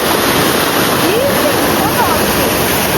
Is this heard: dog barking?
no